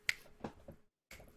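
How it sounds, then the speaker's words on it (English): A few quiet finger snaps, separate and unevenly spaced, close and clear against near silence. "I like how you snap your fingers"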